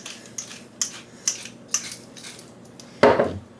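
A utensil taps and scrapes against a bowl as deviled egg filling is stirred with salt and pepper, five sharp evenly spaced clinks followed by a louder scraping stroke, close and alone.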